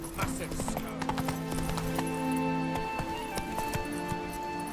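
Hooves of Roach, Geralt's horse in The Witcher 3: Wild Hunt, clop in a steady walking rhythm over game music and ambience, with a voice speaking briefly.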